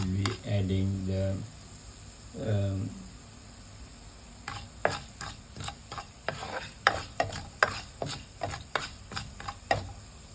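Coriander seeds tempering in hot oil, with a series of sharp crackles and stirring scrapes in the pan that grow busier toward the end, after a voice speaks briefly at the start.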